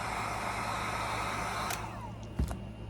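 A heat tool blows a steady airy whoosh onto a small Temu artificial flower to make it expand, continuous and close, with a faint click near the end.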